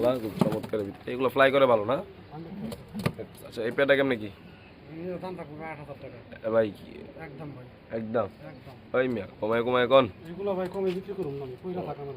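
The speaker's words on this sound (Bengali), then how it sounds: "কি কবুতর এটা" Pigeons coo in repeated low, throaty bursts at a pigeon farm, with people talking nearby in between and over the calls.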